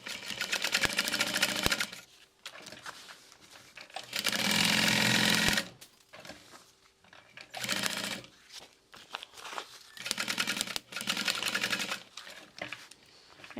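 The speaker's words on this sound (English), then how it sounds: "I'm just going to sew the whole way" A sewing machine stitches a handmade fabric bag in several bursts of steady rapid whirring, each lasting a couple of seconds, separated by short pauses with faint handling noises.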